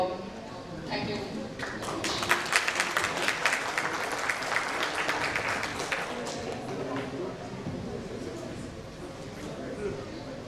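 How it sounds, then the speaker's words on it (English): Audience applause fills a hall at the close of a talk at an ecommerce business conference, sustained dense clapping at moderate volume running through the whole stretch with a little background chatter. "Ladies and gentlemen, a huge round of applause."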